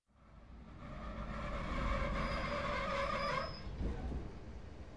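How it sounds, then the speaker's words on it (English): Train rolling along the track, a rumbling rise in wheel and carriage noise that swells after a moment, holds, then eases with a brief clunk near the end; no talking. "I'm on the train."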